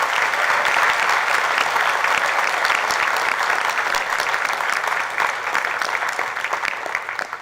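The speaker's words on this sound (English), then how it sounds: "Give him another round of applause." Audience at a black belt martial arts grading applauding in a broad, continuous wash of clapping that holds steady and fades slightly toward the end, with no voices.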